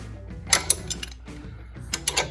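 Wrench tightening bolts by hand, double-wrenched, on a Frankenstein Trikes conversion kit for a 2012 custom Softail trike; a few sharp metallic clicks and ratcheting taps come in irregular bursts, close by, with no talk.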